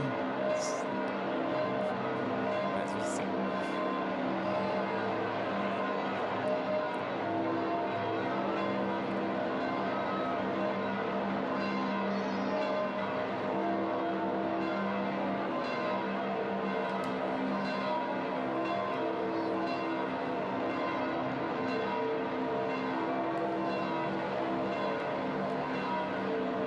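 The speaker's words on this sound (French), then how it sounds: "Les cloches de la basilique Saint-Pierre de Rome." A dense, continuous wash of the large bells of St Peter's Basilica in Rome pealing together, steady and resonant, with no clear pauses between strokes.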